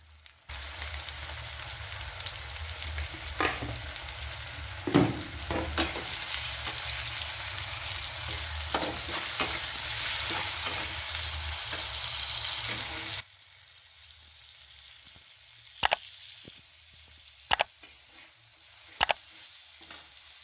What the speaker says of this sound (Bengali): পেঁয়াজটা যাতে তাড়াতাড়ি কষে তাই সামান্য পরিমাণে লবণ দিয়ে দেবো